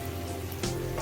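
Onions with mustard seeds sizzling in hot oil, a soft, steady, rain-like hiss with a slight swell partway through, quiet and close with no voices.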